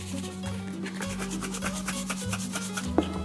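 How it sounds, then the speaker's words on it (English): Dry porcini seasoning rub being mixed by hand in a bowl, repeated scraping and rustling strokes up close with a low steady hum behind, no talking. "Mix it up real good."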